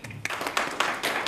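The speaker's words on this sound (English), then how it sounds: "A big round of applause for Dr. Deep Goyal." Scattered clapping from an audience at a formal event on border tourism, a few uneven bursts of hand claps that start sparse and build over a brief moment.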